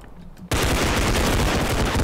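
Gunfire in a zombie video game played from a prone drop-shot position: after a short quiet moment, a sudden, loud, continuous burst of rapid automatic fire fills the rest of the clip, with no speech.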